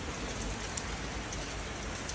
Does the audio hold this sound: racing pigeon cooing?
no